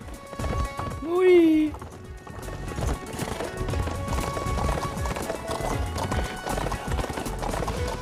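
A horse's hooves clip-clop at a fast run throughout in the video game Warriors Orochi 4, with a short whinny near the start, set against busy game background sound.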